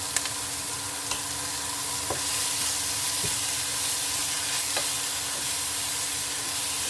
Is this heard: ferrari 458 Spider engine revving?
no